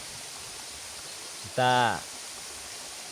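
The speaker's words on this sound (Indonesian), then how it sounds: "Air terjun yang indah" A steady, even rush of falling water at the Larangan river runs unbroken throughout, with a voice speaking briefly partway through.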